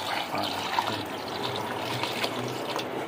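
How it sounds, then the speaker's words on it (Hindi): Water poured into a pot of beef nihari cooking over high heat, a steady soft splashing and trickling that runs evenly throughout, close by and moderately quiet. "थोड़ा सा पानी हम और डालेंगे इसके अंदर।"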